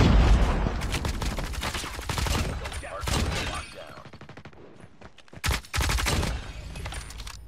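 PDW submachine gun fire in an online shooter game, loud rapid bursts that start and stop in several volleys, with a short lull and a sharp blast near the end.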